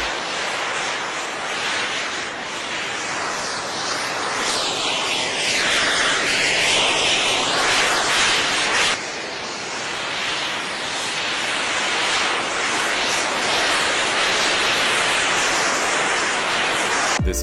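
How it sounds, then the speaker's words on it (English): A body-controlled jet suit flies at record speed, giving a loud, steady broadband roar of turbine thrust that holds with slight surges for the whole stretch, with no voices. "This guy set the world record for the fastest body-controlled jet suit"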